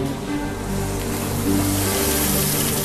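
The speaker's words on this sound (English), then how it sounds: "pours in liquid nitrogen to cool the superconductor to minus 320 degrees Fahrenheit" Liquid nitrogen poured onto a superconductor, a continuous loud rushing, hissing boil like surf that holds steady for about three seconds with no talk.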